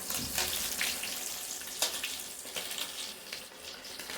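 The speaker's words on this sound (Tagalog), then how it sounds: "Nagpipirito tayo ng maliliit na bisogo." Steady crackling sizzle of small bisugo fish frying in a pan, with occasional louder pops, close up and without talk.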